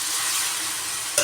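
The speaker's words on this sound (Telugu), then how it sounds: "ఇప్పుడు దీన్ని ఈ టమాటో ఈ కర్రీలో వేద్దాం" Boiled carrot, beans and potato get stirred into a sizzling tomato curry, a soft, steady hiss with light scraping and a small clink near the end, with no voices.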